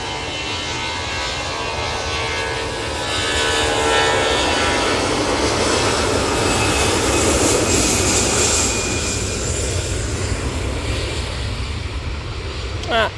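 An EasyJet Airbus A320-200 jet roars steadily on departure from Manchester Airport bound for Istanbul, a loud, sustained broadband engine rumble that swells slightly midway and holds throughout.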